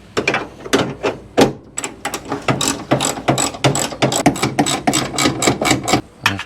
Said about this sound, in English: We got those two 13 millimeter bolts off, one on either side.